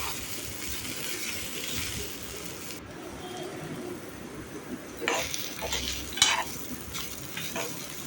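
Coconut and dal being dry-roasted and stirred in a pan, giving a soft, continuous close hiss. Scraping strokes of a spoon come in and out, and a few louder stirs land near the end.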